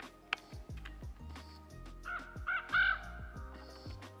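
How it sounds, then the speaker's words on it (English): Crows caw outdoors during a turkey hunt, a series of harsh, repeated calls from a couple of birds at moderate distance, mixed with some low rustling and handling noise close by. "Two crows right here."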